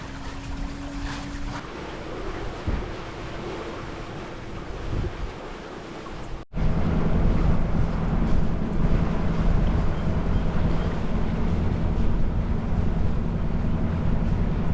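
Sailboat under way on Bras d'Or Lake, with steady wind rushing over the microphone and waves washing against the hull. A low hum runs throughout, and it grows louder partway through.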